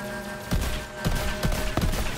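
Gunfire in the video game Borderlands 3, a burst of several loud shots in irregular succession over steady game background sound, with no talk.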